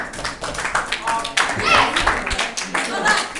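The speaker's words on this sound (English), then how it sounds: "Can everyone give Tenny a round of applause?" A burst of clapping from a small group of Year 9 pupils in a classroom, steady and fairly loud throughout, with a few young voices chattering underneath.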